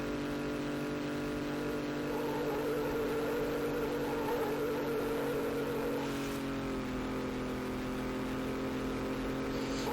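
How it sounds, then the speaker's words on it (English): Continuous engine drone from the PS1 racing game NASCAR 2001, a steady buzzing hum that wavers slightly in pitch with a brief rise partway through. "Engine sounds."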